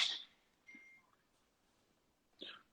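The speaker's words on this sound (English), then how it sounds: "I put my phone on airplane mode, but I'm still getting notifications." A phone notification chime: a faint electronic beep tone near the start of the clip, followed by a soft click and a brief chirp, in a quiet room.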